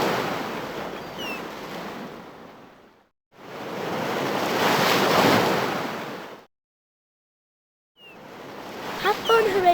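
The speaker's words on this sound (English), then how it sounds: "Make waves, Horatio Whale. Make waves all around you." Broad surging wash of ocean waves from the CD-i game Routes to Reading rises and falls in three separate swells with short silences between, loud and close, and a brief squeaky tone appears near the end.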